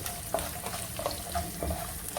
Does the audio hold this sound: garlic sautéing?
yes